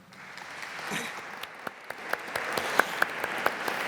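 Audience applause at an Italian geopolitics lecture for the Vicino Lontano event, a dense, steady crowd clapping at moderate volume with sharper individual claps standing out toward the end.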